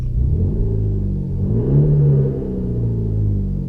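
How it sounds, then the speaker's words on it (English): A 2016 Peugeot 308 GTi engine revs from inside the cabin, its enhanced engine sound piped through the car's speakers: a deep, steady rumble rising into a swelling rev, then easing back and swelling again. "even just turning it on in idle, you can hear the sound start to come through the speakers. It's more so when you rev it."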